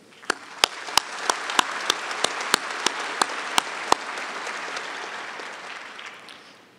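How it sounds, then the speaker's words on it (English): A graduation ceremony audience in a large hall applauds the organizing staff, a broad sustained wash of clapping with a string of sharp, loud individual claps standing out in the first four seconds, then steady applause continuing to the end. "Please join me in a round of applause for the staff who worked quite hard in organizing"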